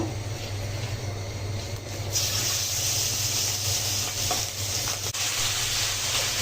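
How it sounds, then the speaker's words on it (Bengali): Turmeric and chili powder fry in a pan while being stirred, giving a continuous close hiss and sizzle with faint scraping over a low steady hum. "এখন দিয়ে দিচ্ছি হলুদের গুঁড়ো, মরিচের গুঁড়ো, এটা ভালোভাবে কষিয়ে নেব"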